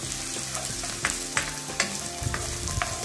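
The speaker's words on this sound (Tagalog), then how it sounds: "Ibigisahin lang natin yung ating luya hanggat lumabas yung kanyang aroma." Ginger sautés in a pan at the start of chicken tinola, giving a steady, close sizzle of frying broken by a few sharp spatters and stirring clicks, with nobody speaking.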